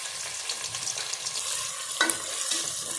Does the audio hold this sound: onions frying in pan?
yes